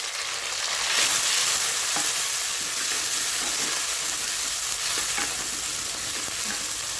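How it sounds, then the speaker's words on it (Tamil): Tomatoes and onions sauté in a pan for a Tamil fish curry, giving a steady, close sizzle and hiss with occasional stirring scrapes throughout, and no voices. "இந்த டைமில் அடுப்பை கொஞ்சம் கம்மி பண்ணி வச்சுட்டு இந்த தக்காளி வதங்கட்டும்."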